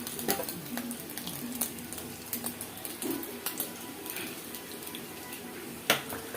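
Oil and whole spices sizzle in a frying pan for egg fried rice, a steady, fairly quiet crackle with scattered clinks and stirring scrapes, one sharper knock near the end.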